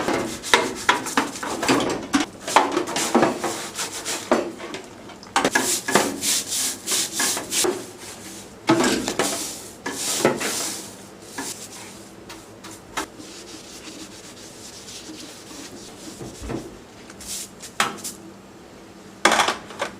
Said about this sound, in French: À l'aide de la brosse, nous allons frotter les parties graisseuses.